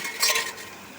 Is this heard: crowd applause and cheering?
no